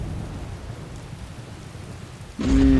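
Steady rain pours in Skyrim, a loud continuous hiss that swells suddenly near the end as a heavier rumble joins in.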